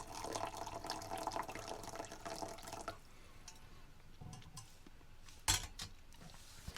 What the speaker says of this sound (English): Let's pour some water in here.